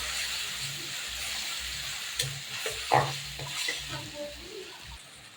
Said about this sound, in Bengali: এবার দিয়ে দেবো আমি এখানে যে পেঁয়াজ রসুন পেস্ট করে রেখেছি সেটাকে আমি দিয়ে দেবো